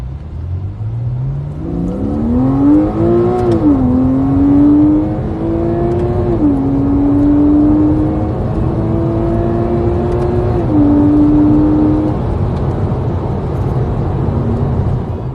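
A Porsche 987.2 Boxster S engine revs up strongly, climbing through several gear changes with brief dips between, loud, close and sustained.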